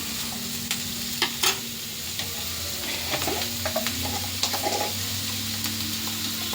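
Onion frying in oil in a pan, a continuous close sizzle with scattered light taps and scrapes of stirring, moderately loud and steady, no voices.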